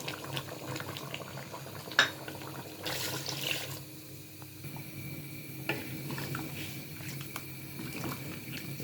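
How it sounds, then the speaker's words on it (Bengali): Water goes into a pot of browned beef with cardamom, cinnamon and bay leaves, giving a close bubbling, watery simmer with clinks and knocks of a utensil against the pot. "আমি জল দিয়ে দিলাম"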